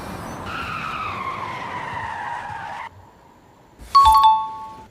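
Rimac Nevera electric hypercar braking hard in a braking test, with a loud sustained tire skid and squeal for about two and a half seconds, then a quieter pause and a sharp chiming tone near the end.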